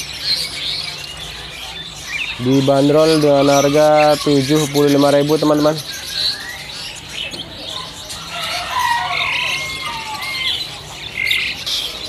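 Black serigoni songbirds at a stall in the Pramuka bird market chirp in a dense, loud burst of harmonic calls for a few seconds, with someone talking before and after and market chatter in the background.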